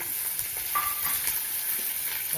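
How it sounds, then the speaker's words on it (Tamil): Onions sizzle and hiss as they sauté in leftover oil in a pan after mutton has been fried, a steady frying crackle with a few soft stirring scrapes, close and moderately loud. "மீதி எண்ணெயில் வெங்காயத்தை மட்டும் போட்டு வதக்கிக்கலாம்"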